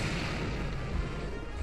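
In Monster Hunter 4 Ultimate, a monster's ground tremor sounds as a dense, continuous low rumble with rough rattling texture, loud and sustained throughout.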